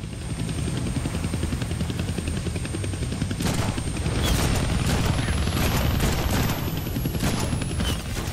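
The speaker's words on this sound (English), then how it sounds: "kill that chopper with my guns, but I can scare him." Helicopter in the Deadpool video game, a loud, continuous rotor thrum and chop heard alongside rapid bursts of gunfire, with a rising and falling whine over the noise.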